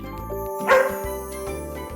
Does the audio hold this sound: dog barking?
yes